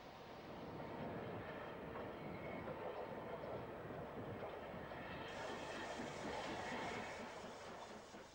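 A BR 9F steam locomotive approaches from a distance on a UK main line, giving a steady, broad rumble of rail noise that holds throughout and swells slightly toward the end.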